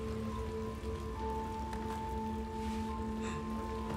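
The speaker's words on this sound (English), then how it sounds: "Oh, we're not really out of the rain yet." Rain falling in the video game Little Nightmares 2, a soft steady patter on surfaces under sustained tonal game music, fairly quiet and continuous.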